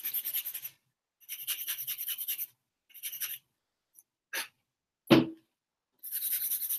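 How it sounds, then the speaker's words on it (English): Harsh rasping strokes of tough sandpaper on a plastic model kit part during assembly, several close bursts of rapid scratching separated by pauses, with a few sharp clicks in between and no talking. "I need some really tough sandpaper."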